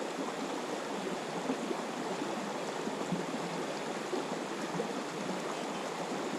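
A river flows steadily and close by, a broad, even rush of water with no pauses.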